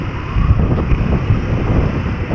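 Strong wind buffets the microphone outdoors on an exposed coastal road, a loud continuous rumbling roar with gusty swells and no voices.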